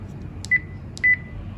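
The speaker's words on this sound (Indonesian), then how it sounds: "Nah, ini dia beep ini. Ini rada mengganggu sih." Two short, high electronic beeps sound from a device in a quiet room, about half a second apart, the second slightly longer, crisp and close over faint background hiss.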